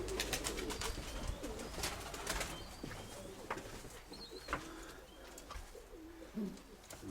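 Pigeons coo softly in a dovecote where young squabs have recently hatched, with low repeated coos, occasional chirps and wing sounds, all fairly quiet and close.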